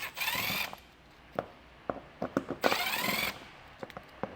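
A power driver spins out T30 Torx screws under the front of a 2024 Ford Escape: two short whirring bursts separated by sharp metallic clicks and taps, close and fairly quiet.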